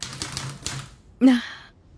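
A mechanical typewriter gives a few soft key clacks, then one sharp, loud strike, all close up in a quiet room with no talking.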